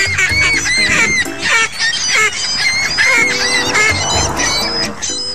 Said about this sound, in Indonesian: Entah apa yang dilihat bebek yang satu ini, tapi cara ia tertawa adalah hal yang paling menarik perhatian